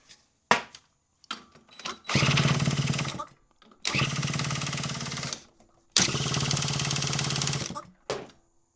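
A 1982 Honda Urban Express barn-find scooter is cranked after starting fluid is sprayed in, giving three long rattling bursts of rapid mechanical chugging, each lasting one to two seconds and separated by short pauses, with sparse clicks and handling noises between them.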